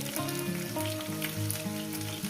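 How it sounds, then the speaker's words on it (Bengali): Fish frying in a pan, a continuous close sizzle under a loud melodic music track. "তার মাছটাকেও দিয়ে দেবো সেটাও ভাজা হবে"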